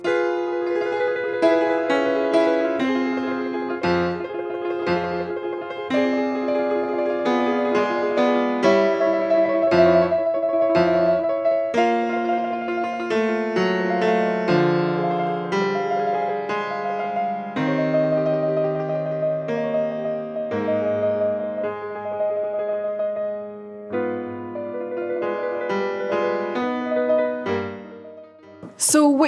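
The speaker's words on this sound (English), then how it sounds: "So what you just heard was the fate theme from Carmen," Fate theme from Bizet's opera Carmen played as a sustained melodic passage, with rich harmonic lines and shifting chords holding at steady loudness for nearly half a minute, with no talk over it.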